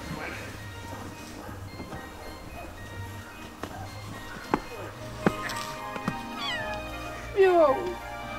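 A kitten meows indoors near a closed window, with faint scattered calls building to a louder, drawn-out meow near the end over quiet room noise.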